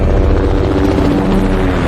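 A police helicopter flies overhead with a loud, steady rotor drone that fills the whole moment without a break.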